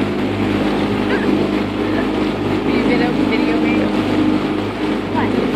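A small motorized dinghy runs across open water, bouncing over its own wake, with a steady outboard engine drone and water rush throughout, close and loud, while people talk over it.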